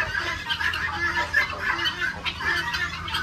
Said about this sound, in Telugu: అటు సైడ్ ఉన్న పక్షులు అయితే చాలా గోల్ చేస్తాయి అనమాట